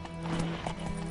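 A horse in The Witcher 3 trots with quick clip-clop hoofbeats and gives a short neigh, heard close and fairly quiet in the brief game moment.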